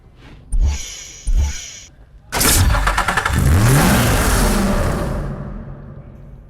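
A Nissan GT-R SpecV in Need for Speed Hot Pursuit gives two short engine blips, then a loud, sustained rev climbs and holds before slowly easing off, heard close and alone.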